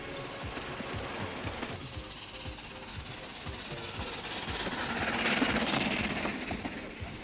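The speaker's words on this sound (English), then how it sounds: "Here at Ddiallt, trains traverse Britain's only spiral railway" A Ffestiniog Railway train runs on Britain's only spiral railway at Dduallt, high on a mountainside, giving a steady rumble with rhythmic clickety-clack of wheels over rail joints that swells slightly toward the end.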